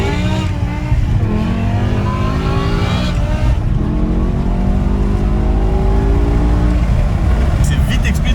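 A BMW M6 with a V10 accelerates hard onto a highway, heard from inside the car as a loud engine note that climbs through the gears with shifts along the way, while people talk over it.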